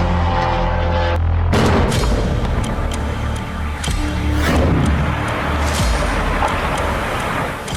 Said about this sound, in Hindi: रोस्टोव में यह जोरदार धमाका हुआ